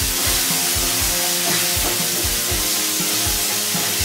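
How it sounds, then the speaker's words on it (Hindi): Crushed garlic and chili paste sizzle in hot oil with cumin, fennel and nigella seeds for a dhaba-style onion paratha, a loud, steady frying hiss with soft stirring scrapes and no talking. "अब मैं डालूंगी इसमें कुटा हुआ लहसुन और मिर्ची का पेस्ट। अच्छे से मिक्स कर लेंगे।"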